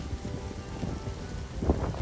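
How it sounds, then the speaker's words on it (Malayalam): Rain falls heavily near Medina, with a dull roll of thunder mixed into the steady downpour and no voices. "ഈ ഇടിയും മഴയുമെല്ലാം ചേർന്നതാണ് അജുബയുടെ ജീവിതം."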